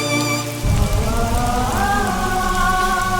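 Heavy rain pours down in a dense, unbroken hiss, with music playing over the downpour throughout.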